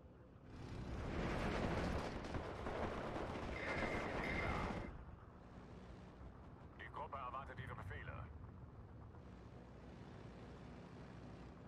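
Heavy bombing and artillery blasts rumble in the Steel Division 2 war game, a loud sustained roar of explosions that fades to lighter distant battle noise, with talk running over it.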